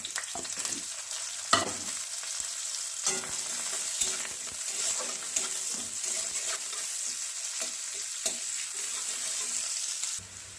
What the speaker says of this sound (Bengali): পেঁয়াজ মোটামুটি হালকা ভাজা হয়ে গেছে